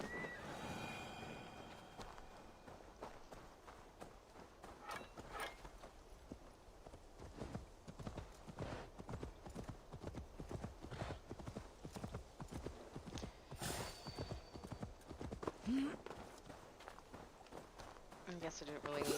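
Horse hooves clip-clop in a steady walking-to-running rhythm in the Assassin's Creed Valhalla video game, close and continuous, with a horse neighing near the start amid game sounds.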